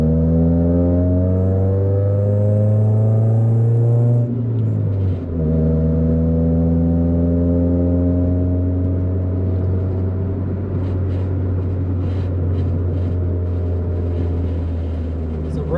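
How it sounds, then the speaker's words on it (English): Honda Civic EK on its first drive after upgrades, with the front wheel rubbing on the wheel liner. A loud, steady engine and road drone dips once with a gear change, while faint rhythmic scraping runs underneath. "That wheel rubbing is awful."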